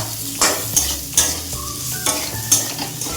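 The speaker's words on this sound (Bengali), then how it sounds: "আস্তা রসুন কোয়াগুলিও দিয়ে দিলাম, একটু ভাজবো" Ginger-garlic-chilli paste and whole garlic cloves fry in oil in a pan, a loud, close sizzle punctuated by about five sharp metallic scrapes and taps of a spatula at irregular intervals, with no voices.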